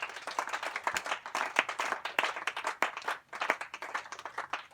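A church congregation bursts into steady, dense applause after prayers, many hands clapping at once, moderately distant and continuous with no talking over it.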